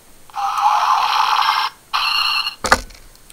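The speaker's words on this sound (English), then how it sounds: "First of all, we have the morphing sound." A Transmorpher toy's bright electronic warbling morphing tone plays in two bursts, followed by a short clicky mechanical clatter.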